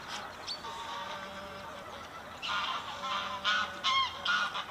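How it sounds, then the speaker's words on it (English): Geese honk in a loose chorus of repeated calls, some nearby and some farther off, growing louder toward the end over faint background noise. "It ain't therapeutic listening to geese go on."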